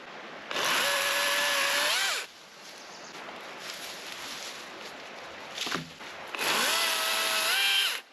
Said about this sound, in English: that's why I like electric chainsaws